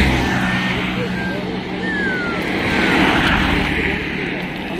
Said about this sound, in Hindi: वहां से और एक गाड़ी आ रही है।